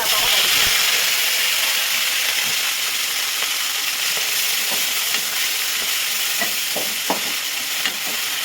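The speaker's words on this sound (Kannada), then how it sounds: "ಪಾಲಕ್ ಎಣ್ಣೆ ಒಳಗೆ ಬೇಯಿಸ್ಕೋಬೇಕು" Spinach cooks in hot oil with garlic, a continuous loud sizzle and hiss close by, broken by irregular stirring taps and scrapes of a spoon against the pan.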